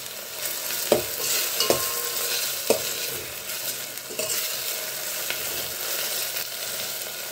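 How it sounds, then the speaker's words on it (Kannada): Tomatoes sizzle in a pan while a spoon stirs and mashes them, with close, steady frying noise and several distinct scraping knocks against the pan. "ಈ ಟೊಮೊಟೊ ಎಲ್ಲ ಚೆನ್ನಾಗಿ ಫ್ರೈ ಆಗಿ ಸ್ಮ್ಯಾಶ್ ಆಗಬೇಕು"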